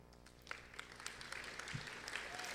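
An audience at a senior awards ceremony claps for a distinguished scholar, a steady patter of many hands building slightly over the short stretch.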